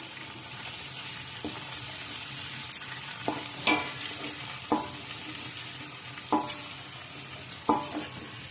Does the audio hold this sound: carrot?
yes